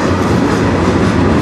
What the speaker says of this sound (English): Maybe this will be our train with a DPU.